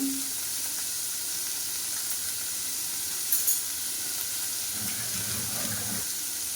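Cucumber frying in a pan with salt while being stirred, producing a constant hissing sizzle close up, with a couple of short scraping stir noises near the end.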